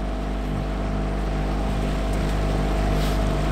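A 2020 Mercury 9.9 outboard motor drones steadily at speed on a john boat, a constant close engine hum with wind and water noise and no voices.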